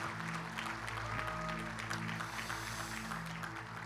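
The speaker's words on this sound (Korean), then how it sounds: "큰 박수로 한번 축하해 주시기 바라겠습니다." Congregation applauding during a retirement and ordination thanksgiving service in a church, a steady wash of clapping over a sustained organ or keyboard chord held underneath.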